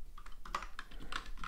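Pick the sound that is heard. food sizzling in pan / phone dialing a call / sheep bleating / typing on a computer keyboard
typing on a computer keyboard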